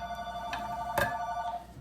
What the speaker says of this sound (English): Now she calls the house phone.